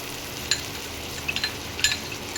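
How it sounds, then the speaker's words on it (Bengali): Chana murgh sautéing with yogurt in a pan on an induction cooktop: a steady low sizzle with a few soft clicks and scrapes from stirring, close and quiet. "এবার টক দইটা দিয়ে একটু কষিয়ে নেব।"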